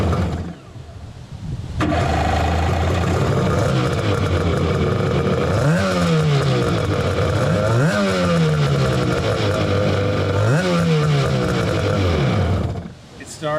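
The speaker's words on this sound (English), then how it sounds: "Here's the first startup with the new exhaust." A vintage Jet Ski 550 two-stroke engine fitted with a new race exhaust cranks and fires, then settles into a loud, raspy running note, blipped up in three sharp rising revs before idling down.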